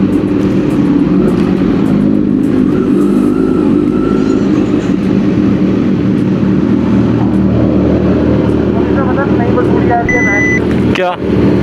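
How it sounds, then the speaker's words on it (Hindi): A loud superbike engine rumbles and revs continuously on a weekend group ride through Noida traffic, a heavy low drone filling the whole stretch, with a brief whine and a horn-like tone near the end. "इतनी लाउड बाइक आज नोएडा के अंदर घूमने वाली है"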